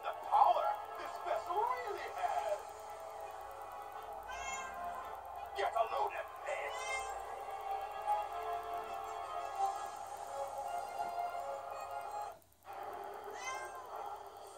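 Pet cats meow repeatedly, several short meows spread across the stretch, heard under a steady bed of game music and sound effects.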